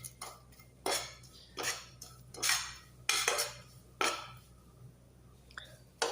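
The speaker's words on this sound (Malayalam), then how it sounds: "ഇനി നമുക്ക് ഇട്ടോട്ട് കുനാഫ് ഇട്ട് കൊടുക്കാം ഇനി ഇതൊന്നും നന്നായിട്ട് മിക്സ് ചെയ്യാം" A spoon stirs shredded kunafa pastry into melted butter in a pan, making about eight separate scraping, rustling strokes at an even pace, close and fairly quiet, with no talking.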